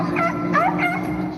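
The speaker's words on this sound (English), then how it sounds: "And then the dog." A dog gives a short yelping whimper, close and loud, with a droning musical bed underneath.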